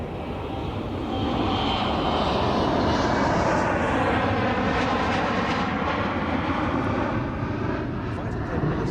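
An RAF Sentinel ASTOR radar aircraft flies past at the 2014 RAF Waddington airshow, its broad engine roar swelling after the first second and staying loud and steady, with a voice speaking over it.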